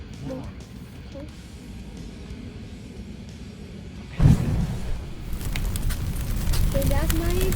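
Toy volcano erupting with pink lava: a sudden soft burst, then a steady broadband fizzing hiss that builds and continues, with voices speaking nearby.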